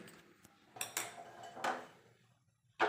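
A metal pan clanks as it is set down on the stove, with a few scattered knocks and clinks of cookware, then a final louder clatter at the end. The sounds are close and moderate in loudness, with no talk.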